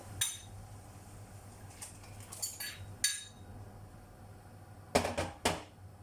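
White fish added to a cooking pot for an Asian-style soup, with a handful of sharp clinks and knocks of utensils against the pot, spaced out and close, with no talking.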